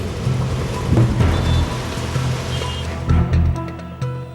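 Unseasonal rain falling in Delhi, a loud, continuous hiss of rainfall on surfaces with low rumbling underneath.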